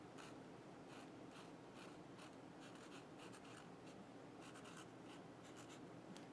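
A pen writes on a folder label at close range, with steady scratchy strokes and short pauses repeating throughout, heard alone with no talking.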